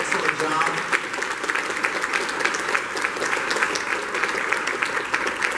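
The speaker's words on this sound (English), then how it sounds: "Let's give them another big round of applause." Sustained applause from a luncheon audience, a dense, steady clatter of many hands clapping close and loud for the whole stretch, with no voices standing out.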